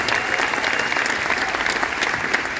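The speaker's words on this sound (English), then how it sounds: "Give them one more round of applause." Dense, steady applause from the audience at a Netflix Running Point panel discussion event in New York, filling the room evenly with no voices over it.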